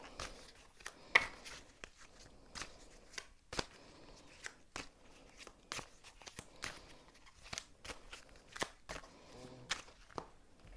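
Gypsy Oracle cards are shuffled by hand in a steady run of soft, papery riffles and slaps, close and fairly quiet, with no talking.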